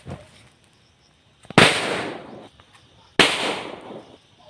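Two loud, sharp bangs from a homemade firecracker made from a sardine can, each a sudden blast that decays over about a second, outdoors with a faint pop beforehand.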